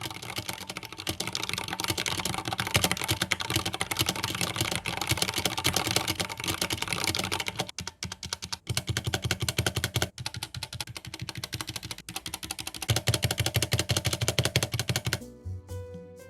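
Rapid typing on a mechanical keyboard, loud and close, with dense clicky keystrokes in a fast continuous rhythm, a few brief pauses and a short break near the end.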